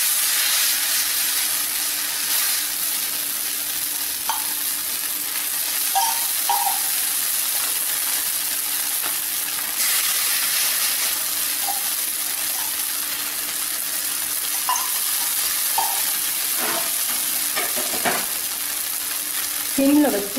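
A sago thalipeeth rotti roasts on a pan over low heat, giving a soft, steady sizzle with faint scattered pops and clicks throughout. It stays quiet and even, with no talking.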